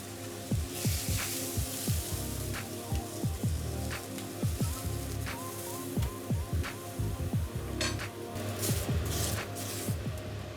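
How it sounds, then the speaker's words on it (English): Beef steak frying in a hot pan, a continuous close crackling sizzle with a dense patter of pops running throughout, steady and fairly quiet. "fry the meat in this way for 1 minute"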